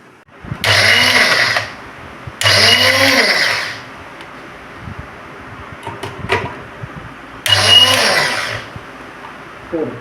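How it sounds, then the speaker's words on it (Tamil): A kitchen mixer grinder whirs loudly in three separate bursts, each a couple of seconds long, as it grinds coconut, garlic and shallots for Kerala-style aviyal, with quieter clatter in between. "பாதி தேங்காய் இதில் போட்டு இந்த நறுக்கி வச்சுருக்க ஐட்டம்ஸ் வெளுத்துள்ளி, சின்ன வெங்காயம் எல்லாம் போட்டு மிக்சியில்"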